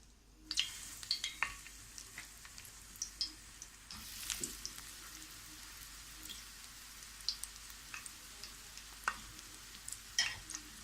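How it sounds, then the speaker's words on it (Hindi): Potato-stuffed bread rolls shallow-frying in a little oil in a pan over medium-low flame, a quiet crackling sizzle broken by frequent sharp pops and spits, close but soft, no talking. "अब हम इसको फ्राई करेंगे।"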